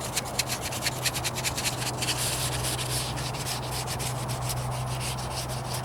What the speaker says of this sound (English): it's like watching a guy do some sanding